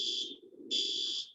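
A shrill electronic evacuation alarm goes off during a drill in two loud bursts separated by a short gap. Faint low crowd murmur runs underneath.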